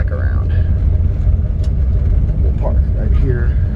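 The engine of a 1955 Chevrolet wagon gives a steady, loud, low rumble as the car pulls around, with faint higher sounds and a murmur of voice in the background.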